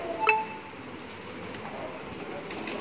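A pigeon in a pigeon loft gives a soft coo over a low, steady background hum, with faint scattered rustles and no clear talk.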